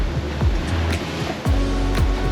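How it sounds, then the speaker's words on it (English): High ocean waves and heavy swell in the Caribbean, heard from a boat as a loud, continuous wash and roar with repeated surging thumps, and no talking. "It's waves anyway, high waves, big waves"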